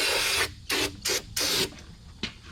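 Aerosol spray cleaner blasted onto rusty 8.8 rear-end gear parts of a Fox-body car, heard as four close, loud hissing bursts in an uneven rhythm, then a short final puff.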